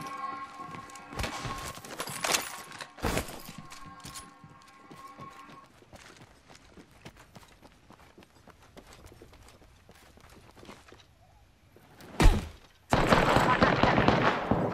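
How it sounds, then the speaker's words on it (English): Gunfire in the video game Apex Legends: several sharp, loud shot bursts spaced apart, then a dense rapid volley at the close, over quieter game ambience. "Shots fired, and they're hitting me"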